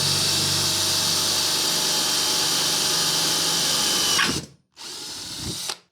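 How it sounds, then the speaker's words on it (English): A power drill with a 1/8 inch bit bores into angle iron, a loud steady high-pitched whine for about four seconds, then a brief stop and a second shorter burst. "And we're going to start with the 1/8 inch drill bit."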